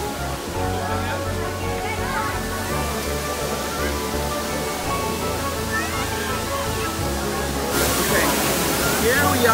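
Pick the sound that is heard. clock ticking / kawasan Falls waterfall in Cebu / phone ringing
kawasan Falls waterfall in Cebu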